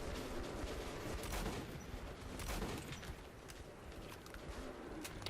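Sustained automatic gunfire in the shooter game Metro 2033 Redux, a dense, noisy rattle of rapid shots filling the tunnel fight continuously at moderate level, with no talking.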